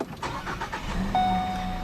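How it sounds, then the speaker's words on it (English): Engine of a 2014 Ford Escape Titanium with the optional 2-liter engine starting at the press of a push button, a brief crank catching into a steady mid-pitched hum close by, with no talk. "push the button to start the engine"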